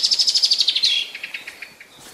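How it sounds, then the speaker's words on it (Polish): An alarmed common blackbird gives a rapid series of sharp, metallic chinking calls, close and loud at first, then slowing and fading over about two seconds with no other sound. "A tu mamy niepokojącego się kosa."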